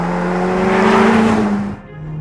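A Ferrari Portofino M engine in sport mode revs hard and loud, a continuous rising roar with a strong exhaust note that cuts off abruptly near the end, close and without talk.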